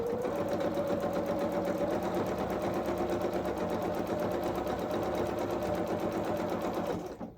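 A sewing machine runs a steady straight stitch along the sleeve of a small coverall, a continuous close whirring hum with a fast even rhythm that holds for about seven seconds and then stops.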